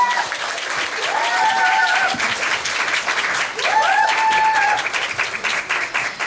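An audience applauds after a lecture, dense sustained clapping filling the room, with a few voices and whoops rising over it.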